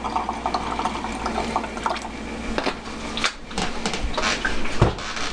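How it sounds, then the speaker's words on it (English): Vodka is poured over garlic and honey in a jar: a close, continuous liquid gurgle and trickle with small splashes and drips, steady throughout. "I'm going to top it off with a little of vodka."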